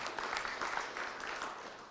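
Audience clapping for moderators at the close of a panel event, a faint, even patter of many hands heard from across the room, lasting the whole moment.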